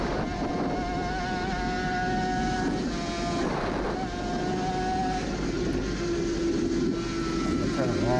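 Onboard a Suzuki RG500 two-stroke racing motorcycle at the Isle of Man 2018 Classic TT, the engine screams steadily at high revs close to the microphone, with wind roar and shifting pitch.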